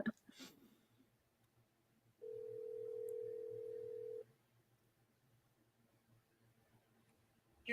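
A single steady telephone ring tone sounds for about two seconds on a live on-air call, clean and fairly loud over a quiet line, with faint clicks before and after.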